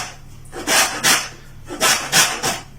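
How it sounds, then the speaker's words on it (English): Lime rubbed over a fine grater to remove its zest, several short close rasping strokes in two quick clusters. "So when you're juicing a lime, we need to get the zest off."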